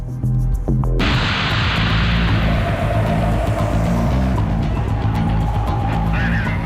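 A car accelerates away loudly with sustained engine roar and some tyre noise as police follow it to make a stop, the engine steady and close throughout.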